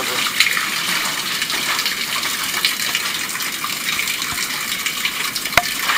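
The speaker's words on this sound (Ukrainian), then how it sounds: "побачили кілька труб врізок та навіть воду спіною з автомийки" Foamy wastewater from a car wash pours through storm drain pipes in a city collector, a steady loud rushing gush with faint knocks and drips.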